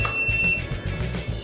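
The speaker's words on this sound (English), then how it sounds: "After the keypad sound 7 beeps, setting succeeds." A DG 750 digital keypad emitting short, sharp electronic beeps in quick succession during programming, clear and close with no talking.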